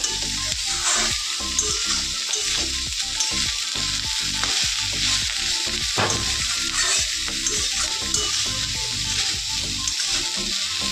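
Food fries in a pan in a home kitchen, giving a loud, continuous close-up sizzle with crackling bursts throughout and no voices over it.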